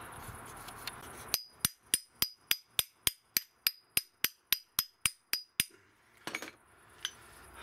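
Hammer tapping on a front suspension part of a Toyota Camry with a 2AZ-FE 2.4-litre engine, a steady run of about fifteen sharp, ringing metallic strikes close up, then a few scattered knocks.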